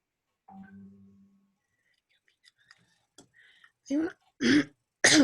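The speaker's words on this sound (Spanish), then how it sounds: "Ya estoy con tos." A quiet throat clearing, then scattered small noises and a few short, harsh coughs close to the microphone.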